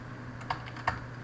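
Two crisp keystrokes on a computer keyboard while typing into a web form, spaced about a third of a second apart over a low steady hum, close and clear with no talking.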